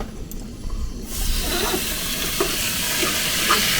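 A mix of garlic, onion, dill, olive oil and lemon goes into a frying pan and breaks into a loud, sustained sizzle, with light stirring scrapes close by.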